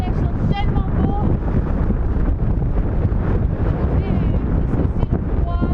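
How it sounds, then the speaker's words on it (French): Strong crosswind on a high Bolivian mountain road south of La Paz, buffeting the microphone in a loud, continuous roar with gusty fluctuations throughout. "Il fait 14 degrés, il y a beaucoup de vent."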